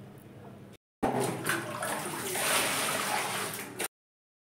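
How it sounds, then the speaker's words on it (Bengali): Clothes soaking in detergent water in a household setting: a soft sloshing and pouring burst of water for about three seconds after a brief gap, close by, with no talk. "জামা কাপড়গুলো এখানে ডিটারজেন্টে ভিজিয়ে দিলাম"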